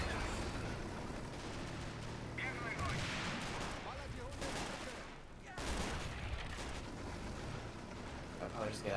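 Gunfire strikes buildings during a tournament match in a military video game, a dense, continuous roar of shots and artillery-like blasts with voices talking underneath.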